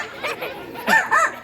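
A parrot at a bird park mimics a dog, giving a few short yappy barks in two quick bursts, fairly close and moderately loud.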